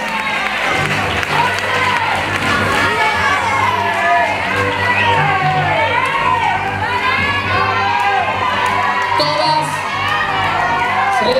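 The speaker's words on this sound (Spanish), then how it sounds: "Un fuerte aplauso." Loud applause and cheering from a beauty pageant audience at the Miss Grand Spain 2017 final gala, a dense crowd roar with shouts and whistles running throughout, a voice talking over it.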